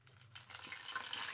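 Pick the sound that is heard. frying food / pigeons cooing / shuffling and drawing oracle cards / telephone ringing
frying food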